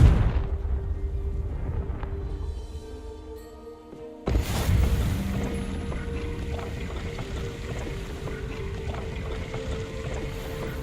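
A fire-blast spell in Hogwarts Legacy detonates with a sudden loud burst partway through, followed by a sustained roaring, crackling rumble over the game's low ambient drone, with no voices.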